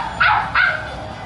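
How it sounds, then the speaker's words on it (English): A puppy loose in a sports broadcast studio gives two quick, sharp, high-pitched barks close to the microphone, then falls quiet. "Got a puppy loose in the studio."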